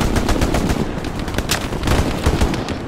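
Rapid Tommy gun bursts rattle nearly continuously in a World War II shooter game, dense loud gunfire shots layered with distant echoing reports over a steady battlefield bed.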